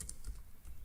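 Rapid keystrokes on a computer keyboard while entering a search term in ArcGIS software, a short burst of quiet clicks with no talking.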